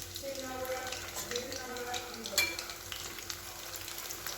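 Chicken pakoras sizzle and crackle steadily in hot frying oil, a continuous close-up hiss with light stirring clatter and a faint tap of water in the background.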